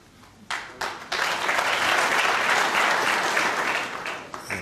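The audience at the Crucible Theatre applauds during the World Snooker Championship final between O'Sullivan and Selby, a few scattered claps swelling into sustained, loud, dense clapping that holds for several seconds.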